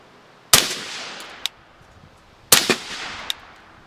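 Two suppressed 5.56 rifle shots through a JK Armament Form 1 can, fired outdoors in open country, each a sharp muffled crack followed by a brief rocky impact or echo, about two seconds apart.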